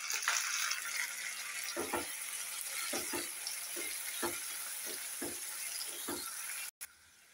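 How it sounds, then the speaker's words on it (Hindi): Roughly chopped tomatoes hit golden fried onions in a pan for dal palak and sizzle quietly, with a series of soft stirring scrapes at a steady pace before a sudden brief break near the end. "उनको भी डालकर भून लेते हैं।"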